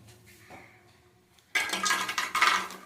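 Lotus seeds dry-roasted in a pan at home, the hard seeds tumbling and rattling against the metal. Quiet clinks at first, then a loud continuous scraping clatter as the seeds are tossed and stirred, close up.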